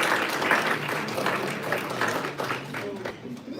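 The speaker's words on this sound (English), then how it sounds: "So one more round of applause for teaching us about braiding." At a Black History Month community event in Grande Prairie, Alberta, an audience gives a round of applause for a braiding teacher, a steady, fairly loud crowd clapping with voices mixed in.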